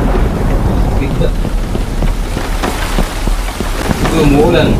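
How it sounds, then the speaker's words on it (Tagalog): Rain falling in a Roblox video game, a loud, steady hiss of downpour with a low rumble beneath, while a voice talks over it. "Ito, umuulan."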